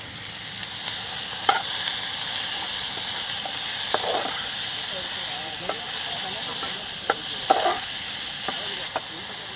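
Finely chopped onions frying for pav bhaji at a Mysore campsite, a steady close sizzle with occasional sharp scrapes and stirring clinks scattered through.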